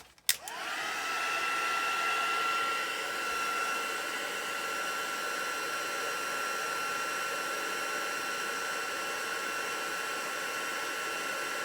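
A heat tool blows a steady, loud whooshing roar, heating bleached cardstock on a silicone mat, with a brief click at switch-on and then continuous airflow with a faint high whine and no talking.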